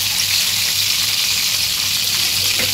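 Talakitok fish fries in a pan with a steady, dense sizzle of hot oil, close and loud, continuous with no voices.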